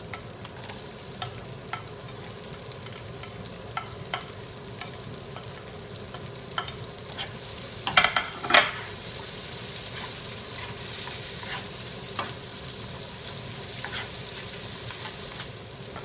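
Sliced white onion fries in a pan already holding garlic for Filipino pansit stir-fried rice noodles, giving a soft, steady sizzle broken by occasional stirring clicks and a couple of louder scrapes.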